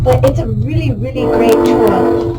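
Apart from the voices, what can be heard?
passing train with horn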